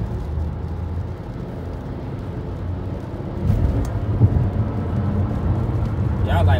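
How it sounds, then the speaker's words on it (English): Honda car driven in sport mode in traffic, a low engine roar that swells noticeably partway through and holds steady, with a person talking over it. "that's Honda in sport mode, so y'all can hear the Honda roar"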